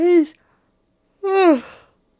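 A character in the Disco Elysium video game yawns twice, each a drawn-out, falling voiced breath, close and clear with silence in between.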